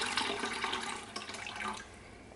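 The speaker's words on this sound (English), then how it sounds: "I'm just transferring the water" Water pours from a kettle into a canning pot for a water-bath setup, a steady close splashing gush that tapers off near the end.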